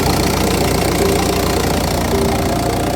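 A VW Touran engine idles steadily up close just after starting from months unused, a low continuous rumble with a slight knocking pulse and no voices.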